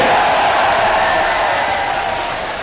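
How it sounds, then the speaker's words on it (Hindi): A large crowd at a Bahujan Samaj Party election rally in Khaga, Fatehpur, Uttar Pradesh, welcomes Mayawati with dense, continuous applause and crowd noise, loud and steady, easing slightly toward the end. "जोरदार तालियां बजा करके हार्दिक हार्दिक स्वागत करते हैं"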